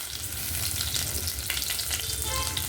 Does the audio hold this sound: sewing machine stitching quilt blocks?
no